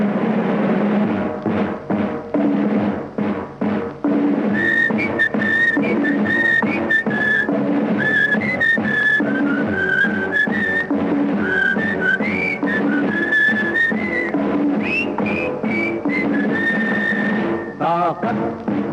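Patriotic Hindi film song from Prem Pujari, sung with chorus: a dense orchestral passage with a bright whistled or flute-like melody line running over steady accompaniment, loud and continuous.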